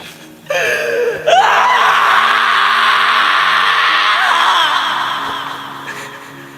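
A voice actor lets out a long, loud anguished scream of grief from Yuji as his friend Megumi dies in his arms, rising sharply and sustained for several seconds before slowly fading.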